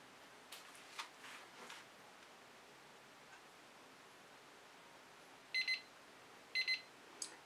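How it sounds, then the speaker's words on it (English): A timer alarm beeps in short electronic bursts, two quick double beeps followed by a third brief one, fairly faint over a quiet room with a few soft knocks earlier. "Can't exactly turn that timer off"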